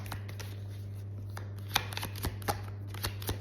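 Tarot cards are shuffled close by in a quiet room, giving soft riffling with several sharp slaps and snaps scattered through the shuffle over a steady low hum.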